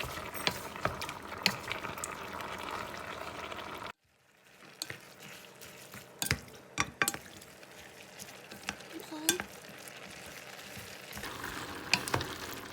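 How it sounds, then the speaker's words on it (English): Pancit noodles and ingredients stirred together in a frying pan, with a sizzling hiss and repeated clanks and scrapes of a utensil against the pan, close by and broken by a brief gap. "Now it's just a matter of stirring it all together."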